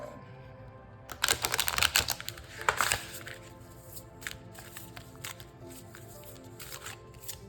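A deck of tarot cards is shuffled close by in a quiet room, with dense bursts of riffling and slapping cards early on, then sparser soft flicks and taps as the shuffling slows.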